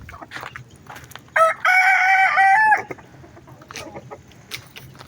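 A rooster on a farm crows once, loud and close, a sustained harmonic call lasting over a second, with scattered faint clucks and background chicken noises before and after.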